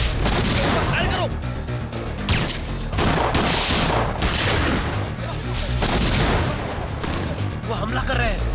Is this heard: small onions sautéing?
no